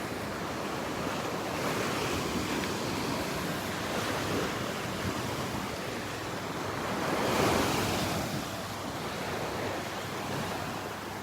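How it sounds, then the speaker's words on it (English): Ocean waves breaking on the beach at Delnor-Wiggins, a continuous roaring surf with wind noise on the microphone and a swell of a louder wave near the end, no voices. "It always gets a little scary when these waves come in."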